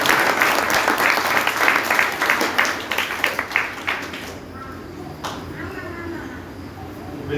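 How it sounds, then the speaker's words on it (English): An audience at a nursery school program applauds: dense, loud clapping for several seconds that thins into scattered claps and fades to a quieter murmuring room, with voices faintly underneath. "So once again, a round of applause for all the attenders."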